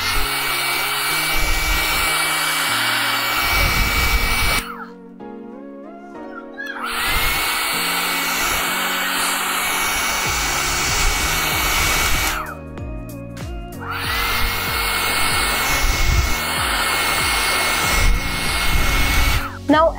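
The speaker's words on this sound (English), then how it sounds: "Let me show you the fan speed now." A Panasonic EH-ND12 hair dryer blows with a steady loud whirring hum, briefly cutting off twice and restarting, running up close with no talking.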